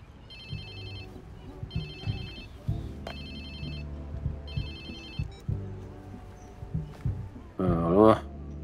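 A phone rings in the video game Watch Dogs 2, a repeating electronic ringtone in regular bursts over low game music, followed by a voice speaking near the end.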